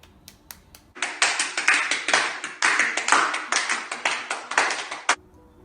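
Hands clapping together in a children's church activity to imitate rainfall, a quick, irregular patter of many claps that starts abruptly after a few taps, holds steady and fairly loud, then stops suddenly.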